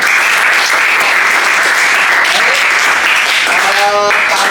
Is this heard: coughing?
no